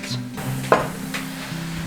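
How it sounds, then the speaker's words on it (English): Thistle roots roast in hot coconut oil with a steady, close sizzle, broken by one sharp clink of a utensil partway through. "So we've got these beautiful thistle roots sizzling away."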